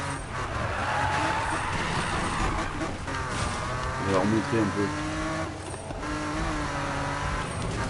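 Car drifting in Need for Speed with tires squealing and skidding over a racing engine roar, sustained and fairly loud, with someone talking over the game sound.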